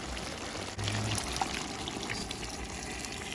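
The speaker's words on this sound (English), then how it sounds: "I add the rest of the water, the seasoning that that's left over, and make some gravy" Water is poured into a pot of Belizean stew chicken with its leftover seasoning to make gravy, a quiet steady trickling pour with a brief splash partway through.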